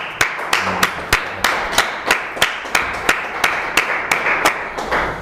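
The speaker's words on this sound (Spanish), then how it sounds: "pido un aplauso para el ponente" Slow, evenly spaced claps, about three per second, from a small lecture audience applauding a speaker; crisp and close, with no voices over them.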